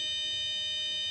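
Steady continuous beep from a digital multimeter in continuity mode, its leads across the terminals of a bulb, holding one unbroken tone for the whole moment at moderate level with no talking.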